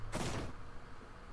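Electroshock goal explosion in Rocket League, a sharp crackling electric burst that hits loud and fades within about half a second into a low hum.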